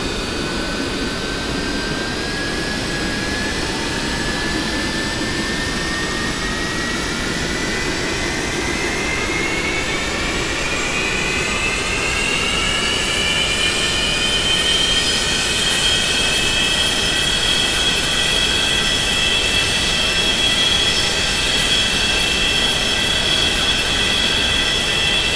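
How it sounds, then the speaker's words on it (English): A simulated Boeing 737-200 jet engine (number 2) in X-Plane 11 spools up, heard from outside the aircraft: a loud, steady roar with a whine that climbs in pitch and then settles into a sustained high tone. "I just love listening to those engines start up."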